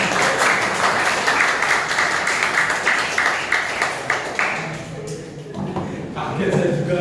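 A group claps for a young man named Azam during a session, a quick burst of fairly loud clapping that fades out partway through, followed by voices and room noise.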